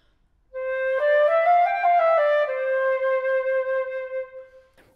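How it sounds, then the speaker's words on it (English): A silver flute, played by a member of the Hallé orchestra at a youth concert, sounds a clear, breathy sustained tone. It shifts briefly through a few nearby pitches, settles back on the opening note, then fades; no one speaks over it. "on the flute, we blow right across the top of the instrument and we make a sound like this"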